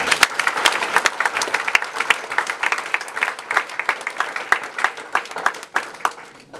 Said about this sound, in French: J'aimerais qu'on puisse acclamer l'homme de Dieu.